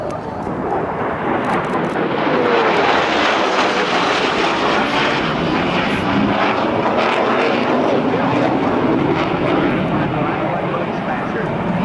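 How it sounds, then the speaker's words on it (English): An FA-18C Hornet from VFA 106 roars past at the 2012 NAS Oceana airshow, a loud sustained jet rush that swells and holds, with voices heard faintly in the crowd. "this is the last FA-18C Hornet from VFA 106"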